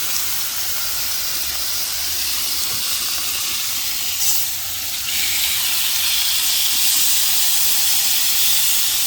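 Shrimp sizzling on a hot griddle over high heat, a steady loud hissing sizzle that runs unbroken throughout, close up with no talking.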